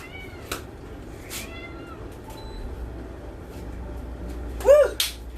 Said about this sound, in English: And you can hear my cat complaining.